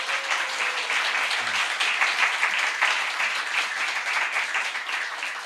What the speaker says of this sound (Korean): 우리 박수로 한번 이 목사님 격려하겠습니다